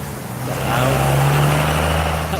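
A loud car passes close by, its steady engine drone swelling to a peak mid-way and then holding strong before easing slightly, with no voices over it.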